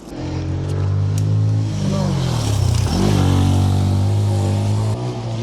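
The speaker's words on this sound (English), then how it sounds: "motorbikes on the cycle tracks" Motorbike engines revving on a neglected cycle track, a loud, steady mid-pitched drone that rises and dips in pitch as the bikes pass close by.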